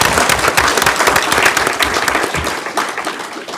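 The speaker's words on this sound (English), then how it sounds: "For this we need applause." Audience at a panel debate celebrating Jerusalem as Israel's capital breaks into loud, dense applause, close and sustained for several seconds before tapering slightly toward the end.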